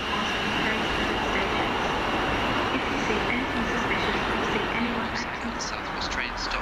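A Class 444 electric multiple unit on a London Waterloo to Weymouth service runs through Southampton Airport Parkway station. It gives a steady, loud rumble with a broad hiss that holds for the whole stretch, with the noise of a nearby train passing continuously.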